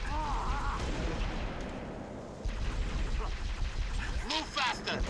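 Heavy weapon fire in the shooter Halo Reach, rumbling booms and bursts of gunfire in a noisy battle, with voices shouting over the combat.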